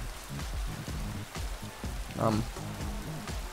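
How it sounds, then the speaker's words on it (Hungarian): Rain falling in the motocross racing game MXGP3, a steady fine patter over a low engine-like drone, with someone briefly speaking over it. "Ez az eső nekem nem tetszik, nem tudom miért zöld amúgy."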